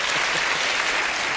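Audience applause in a studio hall during a televised interview, a dense, loud, continuous wash of many hands clapping with no pauses.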